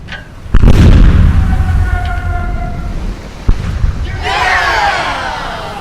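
A ship's cannon volley in a naval radio drama: a loud, close boom, a ringing tail, then a second sharper shot, followed by splashing water and rumble as the salvo lands.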